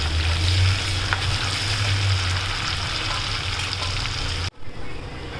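Urad dal, curry leaves and garlic fry in hot oil for a tempering for a sweet, sour and spicy tomato pickle, giving a steady, loud, close sizzle that cuts off abruptly near the end.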